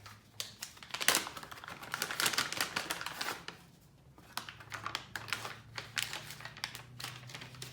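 A printer applying a logo to a coffee bag, giving rapid, dense clicking and rattling bursts like fast typing, close and moderately loud with a brief lull midway, and no talking.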